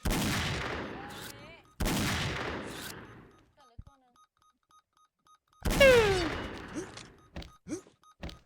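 Loud rifle shots in an online sniper shooter game: two heavy blasts with long decaying echoes, a quiet pause, then a third shot followed by scattered clicks and smaller pops.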